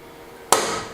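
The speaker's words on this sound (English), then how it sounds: "We'll get it unclamped" One sharp knock or clack as a clamp is released from a handmade wooden door. It comes out of near silence, close and loud, then rings and fades briefly.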